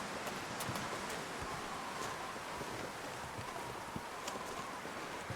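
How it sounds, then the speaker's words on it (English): Strong wind blows outdoors in the survival game The Long Dark, a constant rushing noise with faint rustling gusts and no talking. "with it being this windy"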